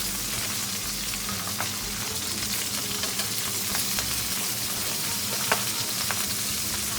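Pork tenderloin sizzling hard in a hot pan, a steady dense hiss with scattered sharp pops and spits of splattering fat, close and continuous with no talking.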